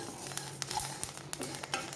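Kuthari rice grains popping as they dry-roast in a pan for ariyunda, with sharp, irregular crackles and clicks over a soft sizzling hiss and some stirring.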